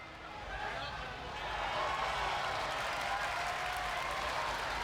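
A video-game wrestling arena crowd in WWE 2K26 keeps up a steady, dense roar of cheering and applause that swells slightly after the first second and holds loud throughout.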